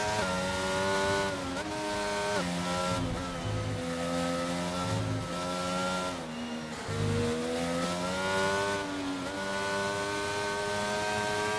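A race car's engine screams continuously through a hot lap in a racing video game at a Japan circuit. The pitch climbs through the gears, with brief dips on upshifts and lifts for the corners. It stays loud and close the whole time.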